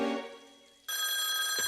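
A cartoon telephone rings in a Woody Woodpecker episode, a bright electric bell trilling loudly in two bursts after a fading tone, with no voices over it.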